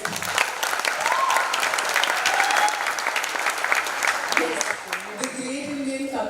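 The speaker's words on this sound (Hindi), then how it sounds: "एक ताली हो जाए।" A studio audience at a comedy show bursts into loud, continuous applause that holds steady before thinning out, with a host starting to speak over the last moments.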